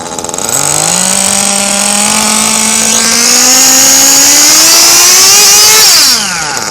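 A Kyosho nitro engine in an FW-06 RC car whines loudly and steadily at high revs, its pitch climbing gradually then dropping off sharply near the end.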